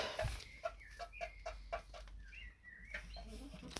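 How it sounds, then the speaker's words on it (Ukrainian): Chickens cluck in a steady series of short, repeated calls, quiet and nearby, with no talking. "Ой, кури вже за мною прийшли."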